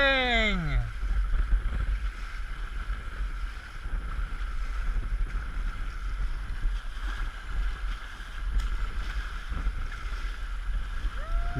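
A small sailboat glides over open water near Cancun, steady wind and water rushing around the hull in a continuous close wash, with a brief voice and tonal sweep at the very start.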